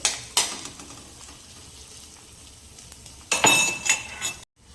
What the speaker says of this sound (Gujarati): હવે આપણી ડુંગળી ચડે છે